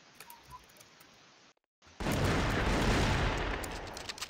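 Gunfire in a capture-the-flag video game tournament final: quiet ticking, a brief dead silence, then a loud, dense, continuous burst of rapid shots that fills the last couple of seconds.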